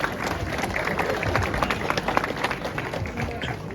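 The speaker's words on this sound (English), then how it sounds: "Big round of applause for yourselves for that." A car show crowd applauds and cheers in steady, dense clapping that fills the space, with voices mixed in throughout.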